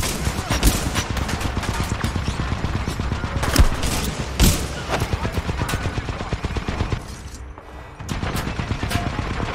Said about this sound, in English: There's someone up there shooting